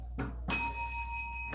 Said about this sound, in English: This is kind of a mesmerizing bell, actually. It's like one of those meditation things.